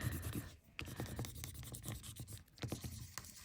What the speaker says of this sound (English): we are going to use our paper pencil and rub